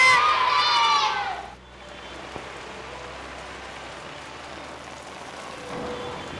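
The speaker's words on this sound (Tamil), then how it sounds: "நல்லா மழை பெய்யுது" Heavy rain pours down on a school campus in a continuous broadband hiss, preceded by a brief voice and with distant children's shouts mixed in.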